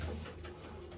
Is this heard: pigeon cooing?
yes